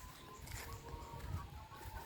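Chickens clucking on a rural farm, a steady low murmur of fowl sounds continuing throughout amid background noise, with no clear crowing.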